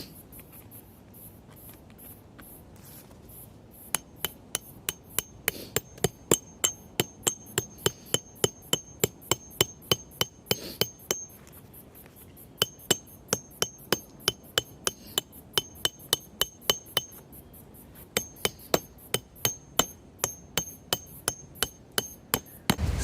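Steady metallic hammer strikes drive tent pegs into the ground to hold down a tarp, a long run of evenly spaced sharp taps, close and clear, with a few brief pauses.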